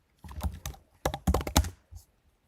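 Someone types on a computer keyboard while editing a function template, giving two short clustered bursts of close, crisp keystrokes with a brief pause between.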